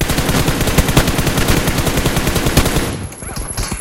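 Rapid automatic gunfire in PUBG Mobile, a loud, steady stream of close shots that stops abruptly near the end, leaving fainter distant noise.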